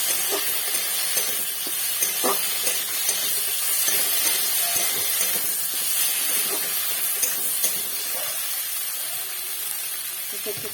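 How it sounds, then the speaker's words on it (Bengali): Spice paste with turmeric and ginger sizzles in a pan for an egg and potato curry, making a constant close hiss broken by scraping stir strokes. A faint voice murmurs in the background. "হলুদ দিয়ে দিচ্ছি পরিমাণ মতো আদা দিয়ে দিচ্ছি আদা এটাকে ভালো করে কষিয়ে নেবো নেড়ে চেড়ে"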